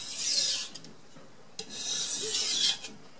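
A low-cost knife drawn over a Carborundum sharpening stone gives long raspy scraping strokes, one pass after another with short gaps between them, close and fairly quiet, with no talking.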